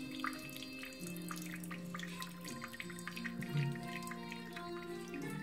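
Water poured out of an instant noodle cup, draining from a spout in a steady trickle with faint drips, close and fairly quiet, with no talking.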